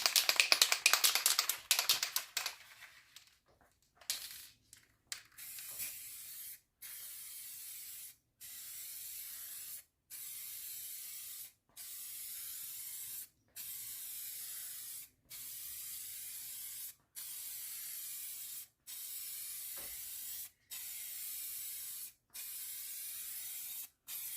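Clear coat sprayed onto the sunroof panel of a Mk2 Golf GTI 16v in light dusting passes: a steady high hiss repeated in about a dozen even bursts with brief gaps, after a few seconds of scattered handling noise.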